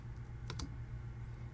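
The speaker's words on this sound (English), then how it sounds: "You hit spacebar" Two quick taps on a computer keyboard spacebar land close together, faint clicks against a low room hum.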